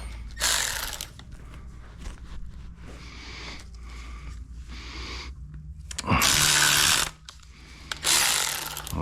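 Impact gun on the bolts of a cover during an S85 engine rebuild, firing in several loud, close hammering bursts, the longest near the end, with quieter tool handling and clinks between them.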